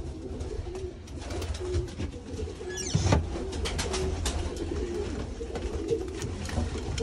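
Stock pigeons coo repeatedly inside a loft, their soft throaty calls close and steady over a constant low background hum.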